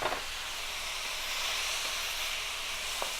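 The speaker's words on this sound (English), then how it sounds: "I'm going to go ahead and throw the shrimp and the mirin and the soy in" Shrimp with mirin and soy tossed into a hot wok with vegetables for a stir fry, giving a steady hissing, steamy sizzle at moderate level, no voices.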